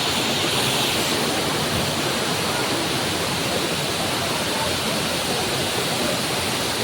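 Daranak Falls in Tanay, Rizal pours in a steady, dense broadband rush of falling water, constant and unbroken with no voices on top.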